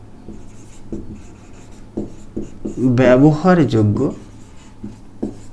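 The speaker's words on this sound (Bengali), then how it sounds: "এরকমভাবে লিখি" Chalk or marker strokes on a classroom board: short scratchy taps spaced roughly a second apart, close by, with a teacher speaking over them midway.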